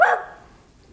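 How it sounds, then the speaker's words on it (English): A single short dog bark sounds at moderate distance in the background, sharp at onset and quickly fading into quiet room tone. "there's a dog barking in the background"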